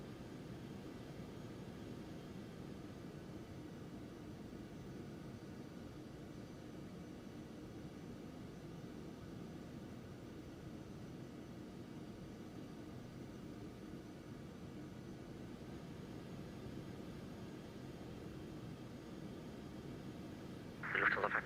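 An Aerobask Phenom 300 jet taxiing in X-Plane 11: a steady, faint, low engine drone and hiss holding unchanged for about twenty seconds, with a brief brighter noise right at the end.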